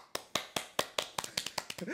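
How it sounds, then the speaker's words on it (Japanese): Hands clap about ten times in a quick, slightly uneven burst, close and crisp, with a voice starting to speak over the last moments. "ちょっと拍手してみました"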